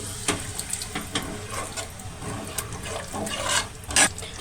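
Water poured into a cooking spice paste, a close splashing pour with several brief clinks and bursts over a steady liquid wash, no talk.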